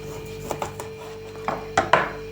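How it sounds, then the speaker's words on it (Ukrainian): A knife slices sun-dried tomatoes into thin strips on a board, giving a series of sharp, close taps at an uneven pace, each cut short and crisp over a steady low hum. "П'ять вялених отаких кусочків помідора нарізаємо соломкою."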